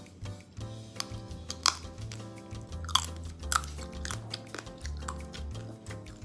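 Crunchy chewing of crispy pork belly skin up close, a series of crisp bites and crackles at an irregular pace over low background hum.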